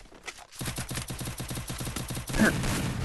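Rapid bursts of automatic gunfire in a mobile battle game, a dense rattling volley that pauses briefly, then resumes louder and heavier, close and alone.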